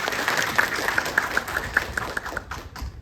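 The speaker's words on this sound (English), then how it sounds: "Let's give her a round of applause." A round of applause from the audience at a political party gathering, brisk scattered clapping with a few sharper claps that tapers off near the end.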